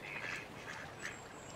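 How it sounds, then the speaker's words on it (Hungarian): A duck quacks faintly by the water on a Farming Simulator 22 farm, a few short quacks repeating at a distance over steady ambient noise. "itt tuszkál a kacsa."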